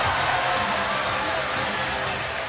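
Home crowd at a basketball semi-final game in Townsville, a steady broadband roar of applause and cheering filling the arena, loud and continuous throughout.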